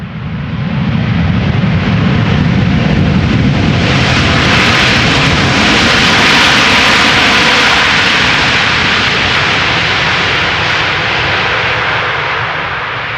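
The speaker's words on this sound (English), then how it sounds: "Air Canada flight 808, the Boeing 7878 Dreamliner, coming in from Toronto" Air Canada Boeing 787 Dreamliner jet arriving from Toronto at Amsterdam Schiphol, a loud, steady broadband engine roar that swells as it passes close and holds for over ten seconds, with no talking.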